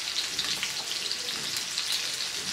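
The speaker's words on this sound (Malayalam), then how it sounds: "മീൻ എണ്ണയിലേക്ക് ഇട്ടതിന് ശേഷം സ്റ്റവ് ഒരു മീഡിയം ഫ്ലെയിമിലേക്ക് വെച്ചിട്ട് വേണം വറുത്തെടുക്കാനായിട്ട്" Fish sizzles steadily in hot oil in a pan over a medium flame, a dense, even crackle that holds close and constant throughout, with no voices.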